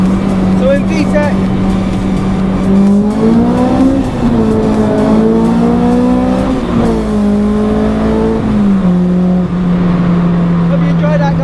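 A K20-swapped Honda Integra Type R DC2 pulls hard in VTEC through a tunnel, its exhaust a loud, echoing rasp rising and falling in pitch with gear changes and revs, continuous and close.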